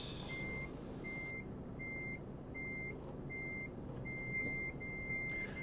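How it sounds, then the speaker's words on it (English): Repeated reversing beeps from a truck in Euro Truck Simulator 2 multiplayer, evenly spaced tones sounding about eight times over a low engine rumble, moderately near. "when you get like 5 trucks backing up at the same time? It just sounds like a constant beep"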